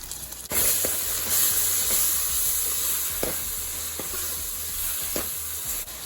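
Ginger garlic paste hits hot oil for a biryani and sizzles loudly with a constant bright hiss, broken by a few soft stirring knocks, close by and with no one talking.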